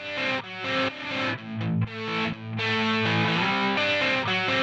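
Sidechain compression applied to a synth track in Acid Pro 11, making a sustained, distorted chord-like tone dip and swell in a steady pumping rhythm, loud and isolated, without talking.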